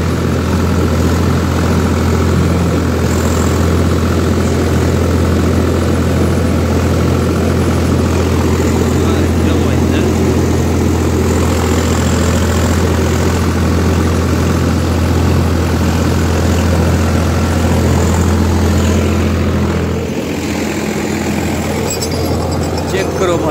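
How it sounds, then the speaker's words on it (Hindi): A loud, steady Swaraj 744 XT tractor engine runs continuously at a constant low drone, close by, with a slight shift in tone near the end. "बाकी बढ़िया चल रहा है ट्रैक्टर।"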